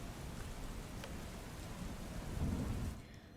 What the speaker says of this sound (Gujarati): એક તરફ વરસાદ વરસી રહ્યું છે